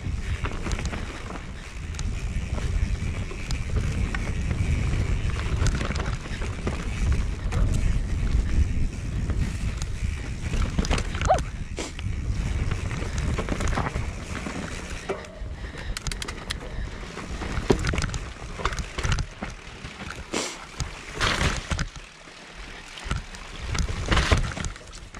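A canoe or kayak paddled down a river section, with steady rushing water and splashing close by, wind buffeting the microphone throughout, and occasional sharper paddle splashes toward the end.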